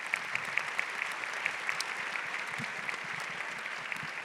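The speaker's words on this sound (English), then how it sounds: "let's give them a round of applause" Audience applause fills a conference hall at a women-in-leadership panel, a steady, moderately distant wash of many hands clapping that carries on evenly with no talking over it.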